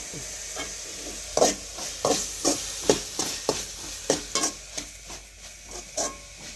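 Boiled, drained pasta is stirred in a pan, with a spoon scraping and clacking against the pan in an uneven series of sharp knocks over a faint background hiss.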